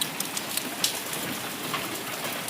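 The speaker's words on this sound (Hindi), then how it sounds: "कितनी तेज बारिश हो रही है, हल्की सी धूप भी दिख रही है और बारिश कितनी तेज बड़ी बड़ी बूंदें गिर रही हैं" Heavy, unseasonal rain with big drops falling outdoors under light sunshine, a steady dense hiss of drops striking surfaces with scattered louder splats, close and continuous, no voices.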